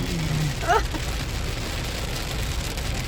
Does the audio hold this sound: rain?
yes